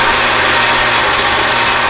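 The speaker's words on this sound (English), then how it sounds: "right now, I'm sawing up another piece here, rough sawing it so I can machine it" A power saw rough-cuts stock in a machine shop, giving a loud, steady, broadband whine and rasp that holds without a break and with no talk over it.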